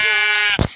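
A single close, loud sheep bleat from a Minecraft-style video game, a wavering tonal baa lasting about half a second, followed by a short thudding hit sound.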